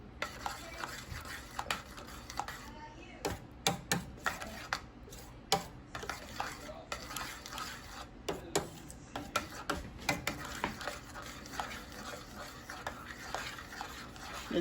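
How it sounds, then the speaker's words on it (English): Spoon stirring nutmeg into Jamaican cornmeal porridge in a pot, a steady run of soft scraping clinks and taps repeating for several seconds, fairly quiet and close. "Stir that in."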